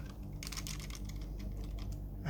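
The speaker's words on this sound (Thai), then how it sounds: "พิมพ์ครับ" Typing on an external keyboard used with an Android device running POS software, a steady run of quick soft key clicks over a low background hum, close and fairly faint, with no voices.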